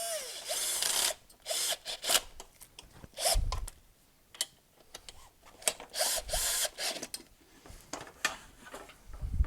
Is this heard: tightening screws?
yes